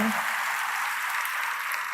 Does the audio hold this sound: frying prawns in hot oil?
no